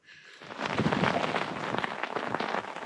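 Rain beginning to fall onto a tarp shelter at a cold wild campsite, a steady dense patter quickly building into a loud continuous hiss close overhead.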